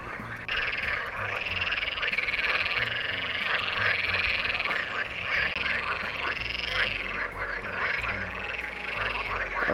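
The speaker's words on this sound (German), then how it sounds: "Vielleicht sind es auch irgendwelche Kröten oder sonst was" Toads croaking densely at a woodland pond with water lilies, a loud continuous chorus of overlapping rapid calls filling the whole stretch.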